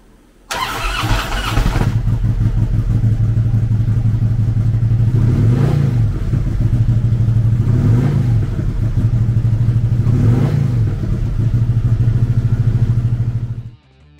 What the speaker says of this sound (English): the Street Glide is powered by a 96 cubic inch V-twin motor